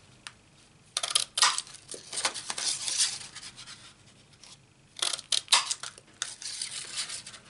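A craft punch stamping shapes out of cardstock for a Stampin' Up Pretty Perennials card, giving two clustered bursts of crisp clicks and scraping rasps, close and fairly quiet, with no voices.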